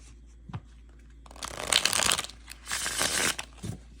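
Linen-finish tarot cards riffle-shuffled in two bursts, a brisk crisp flutter that swells, pauses briefly, then runs again, close and clear with no talk.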